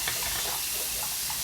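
Hot water runs from a tap into a sink in a steady, close hiss and splash that continues evenly with no talking.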